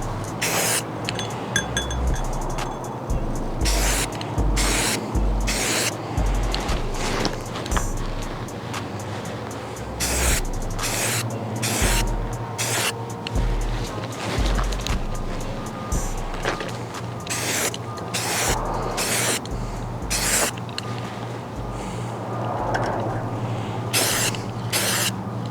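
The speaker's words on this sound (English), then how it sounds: "Try to remember to spray in short bursts of paint." Short bursts from a rattle can of spray paint being applied to a rifle, repeated hissing spurts with brief gaps, close and fairly loud over a low steady background hum.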